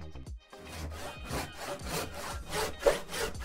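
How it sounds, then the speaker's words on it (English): A hand saw cuts through wood in a steady back-and-forth rhythm of rasping strokes, close and fairly loud, with no voices. "We use the saw to cut wood."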